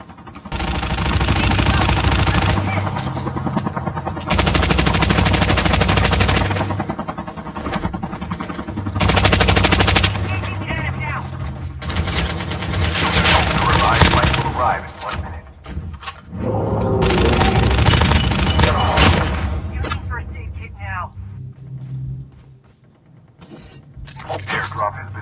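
Rapid, loud AK-47 automatic gunfire in the Call of Duty video game, long sustained bursts separated by brief gaps, with a voice talking over parts of it.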